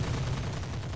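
Rapid gunfire in Roguepoint, a dense loud volley of close shots packed into a single continuous second of combat noise.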